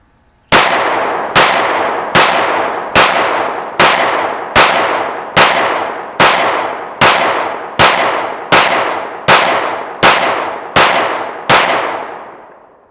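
A Glock 19 Gen4 pistol firing Winchester white box 115 grain 9mm, fourteen loud sharp shots at an even, rapid pace, each with a short ringing decay, then silence.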